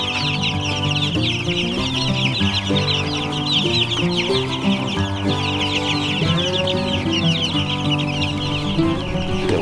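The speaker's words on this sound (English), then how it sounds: "So now we got the chicks." A flock of chicks clucks and chirps continuously nearby, overlapping calls forming a busy, loud chorus with no talking.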